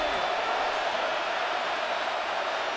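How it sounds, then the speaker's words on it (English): Constant loud stadium crowd roar from Madden NFL 26, fans in the Texans versus Bills game trying to force a false start on third and inches, an unbroken dense wash with no pauses. "this crowd trying to force a false start here"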